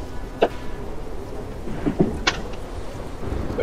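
Rain falls steadily in the background with a few short, sharp cracks and rumbles of thunder scattered through, fairly distant and moderate in loudness.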